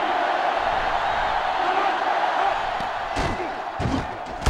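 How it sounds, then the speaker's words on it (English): A sellout stadium crowd roars steadily through a college football game between Florida and Florida State in NCAA Football 2005, a broad continuous wash of cheering with a few sharper bursts near the end and no clear talk. "This sellout crowd is really making a difference now as these guys can't even call the play"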